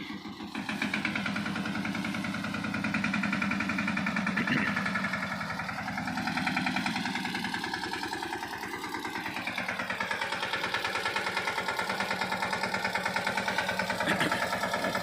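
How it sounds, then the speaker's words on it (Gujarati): A tractor engine chugs steadily at idle beside a mini peanut oil press, its low rhythmic rumble filling the scene without pause, with a faint shift in pitch partway through. "આપણને મદદ કરવા તો લઈ આવે છે ટ્રેક્ટર અત્યારે"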